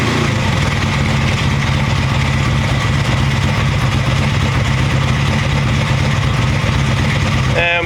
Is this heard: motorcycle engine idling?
yes